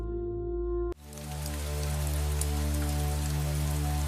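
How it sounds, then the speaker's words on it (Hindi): In a cartoon, after a brief hum cuts out, heavy rain pours steadily at night, a dense hiss of drops hitting surfaces that continues loud and unbroken. "रात के अंधेरे में बारिश की आवाज तेज हो रही थी।"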